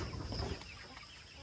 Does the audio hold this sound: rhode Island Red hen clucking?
yes